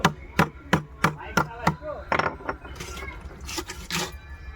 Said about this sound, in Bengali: মাছ কাটা হয়ে গেল, এবার মুড়োটা কেটে নিচ্ছি।